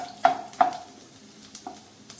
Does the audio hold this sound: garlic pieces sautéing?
yes